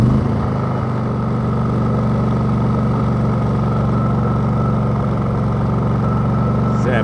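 A Champion C4500iES GEN2 inverter generator runs steadily just after its first start, giving a loud, even hum with a constant low drone and no speech.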